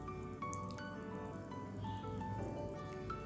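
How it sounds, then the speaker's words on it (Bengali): Potatoes are stirred into a thickened chili sauce in a pan, giving soft, wet squishing and dripping sounds in irregular bursts, quiet and close, with no talking. "এবার আলুগুলো এর মধ্যে দিয়ে দিলাম। এবার পুরোটা একটু ভালো করে নাড়াচাড়া করে নিলাম।"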